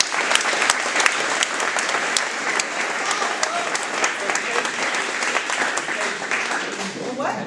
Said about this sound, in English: let's give a round of applause to the parents